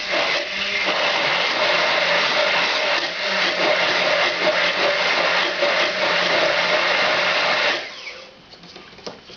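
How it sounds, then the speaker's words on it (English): A kitchen blender whirs loudly and continuously, blending cooled oil with garlic, for about eight seconds before cutting off, leaving only faint rattles and quiet room noise. "Put that in there and blend this with the garlic."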